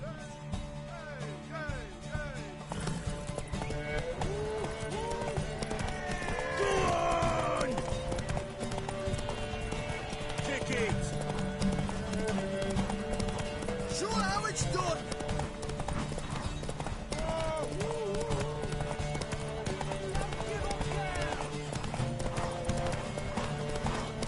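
Steady clip-clop of galloping hooves runs throughout, with a horse whinnying and voices talking over game music.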